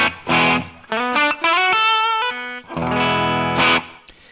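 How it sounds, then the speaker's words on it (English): Electric guitar through an Ableton Live effects chain, loud processed notes in short bursts and a quick run of rising single notes, then sustained chords with a bright edge; no voices. "I've made myself a nice little guitar signal chain here"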